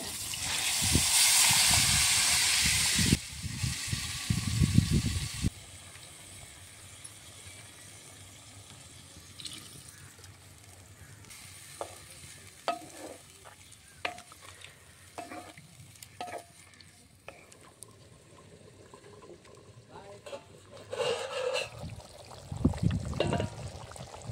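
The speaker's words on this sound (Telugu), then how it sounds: "ముందుగా కలిపి చేసి పెట్టుకున్న రొయ్యల పులుసుని అయితే తిరగమాతలో పోస్తున్నా" Prawn curry is poured into hot tempering in a pan, giving a loud burst of sizzling and hissing at the start. Quieter bubbling, clinks and intermittent stirring follow, then more stirring bursts near the end.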